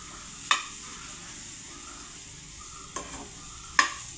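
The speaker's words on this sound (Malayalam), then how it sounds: "അപ്പോൾ നല്ലപോലെ നെയ്യിൽ വഴറ്റിയെടുക്കുക." Raw tapioca being sautéed in ghee in a home kitchen pan, giving a steady low sizzle with a few sharp scrapes or stirs of a spoon at irregular intervals, close and fairly quiet.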